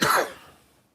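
A man clears his throat and coughs once, loud and close, a short harsh burst that fades quickly into silence.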